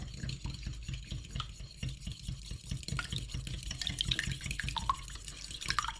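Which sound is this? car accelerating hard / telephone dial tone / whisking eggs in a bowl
whisking eggs in a bowl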